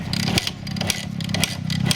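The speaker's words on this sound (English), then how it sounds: "So we're gonna see if the bike can start here." A motorcycle engine being started during a parking-lot repair after fitting new gaskets: a steady, loud, rough mechanical churning with rapid pulsing, continuing throughout with little break.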